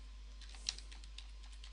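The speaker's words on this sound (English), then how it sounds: "we're going to type in the IP address of a device on our network" Quiet, sparse keystrokes on a computer keyboard as an IP address is typed into a web browser to reach a home router's login page, with a few distinct clicks and no talking.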